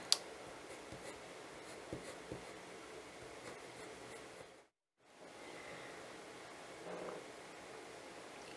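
Derwent watercolour pencils scratching across paper, a soft continuous rasp with small ticks of the lead, broken by a brief silent gap midway before the drawing resumes.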